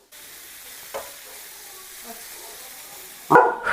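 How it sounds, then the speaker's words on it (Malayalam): Masala sautés in a pan for karimeen pollichathu, a faint steady sizzle with a couple of small knocks and a sudden louder clatter near the end. "നല്ലതായിട్ട് വഴറ്റണം മസാല."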